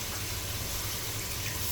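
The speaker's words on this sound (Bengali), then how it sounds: "এখন একটু পানি দিব" Water pours steadily into a large pot of rice and beef for biryani, a soft continuous gushing stream heard up close with no talk over it.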